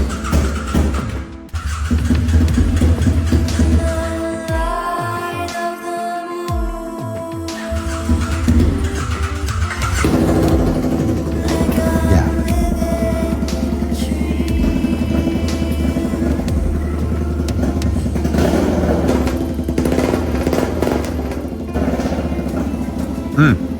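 A restored BMW F800 ST motorcycle engine cranks, fires and keeps running, a close, loud, uneven mechanical drone with a stumble partway through, continuing throughout without talk.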